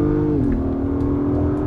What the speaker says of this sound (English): Immediately you hear it revving up, and we're going to give it one quick blast here.